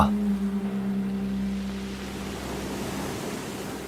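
The Silver Dragon tidal bore surges as a broad, steady rush of churning water, moderately loud, with a low hum at the start that fades away.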